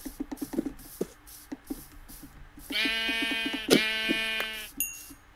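A Minecraft sheep bleats in a quavering, drawn-out call, twice in close succession, clear and fairly loud over quiet game footsteps and clicks.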